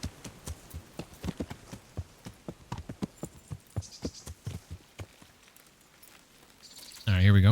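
A horse's hooves clip-clop in Kingdom Come: Deliverance, a steady run of distinct, evenly spaced footfalls that slows and fades before a louder burst of sound cuts in at the end.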